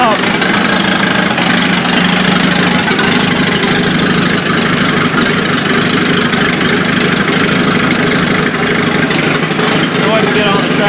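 Tractor engine idling rough while still cold, a steady loud rumble with uneven knocking running the whole time, with a person talking over it.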